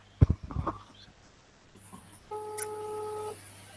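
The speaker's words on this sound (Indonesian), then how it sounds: "saya telepon dulu" Phone dialing during an online collaborative discussion session: a short run of steady electronic tones rises near the end, following a few brief knocks and faint noise, with no talk.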